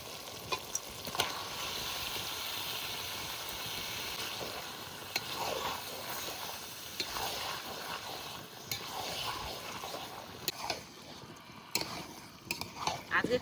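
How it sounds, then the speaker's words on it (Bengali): Mutton goes into a pan with jackfruit and is stirred, giving a steady close sizzle broken by scraping and clinks of a spoon against the pan. "এবার মাংস দিয়ে দেবো"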